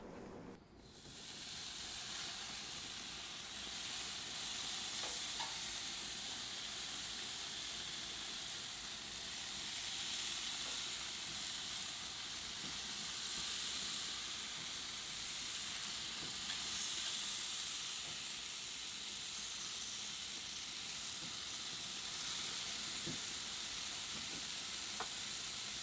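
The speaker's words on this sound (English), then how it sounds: "Now we're going to take them outside and we're going to grill them." Chicken tenders in a simple marinade sizzle steadily on an outdoor grill, a continuous bright hiss and crackle at moderate level with no voices.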